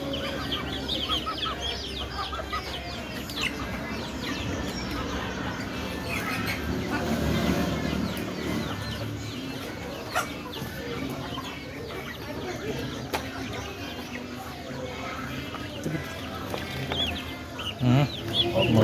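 Chickens clucking at feeding time among farm ducks, a busy, continuous flock chatter of clucks and chirps close by, with a person speaking now and then over it.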